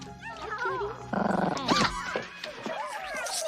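A dog in the 1984 film Gremlins gives a short, close growl mixed with whines and yips, amid other film sounds.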